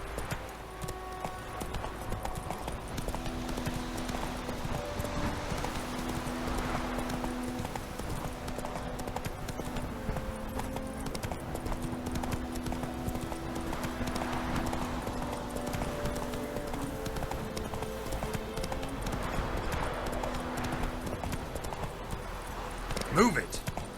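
Roach the horse gallops in The Witcher 3, a steady clip-clop of hooves running on through the whole stretch under continuous game music and sound, with a voice speaking over it.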